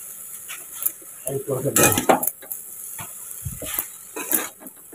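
Chow mein with broccoli and egg is tossed in a pan, with clattering metal spatula scrapes and clinks over a soft sizzle, a few sharp knocks near the middle and a faint voice in the background.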